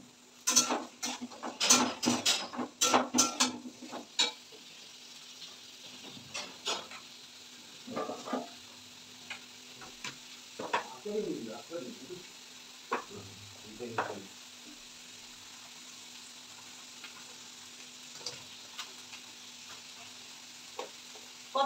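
Chopped onion, chili and ginger fry in a pan for pasta, opening with a rush of clattering stirs and sizzle, then settling into softer intermittent sizzling and spatula scrapes, with occasional quiet talk.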